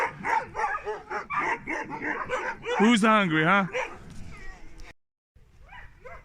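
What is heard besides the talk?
husky dogs barking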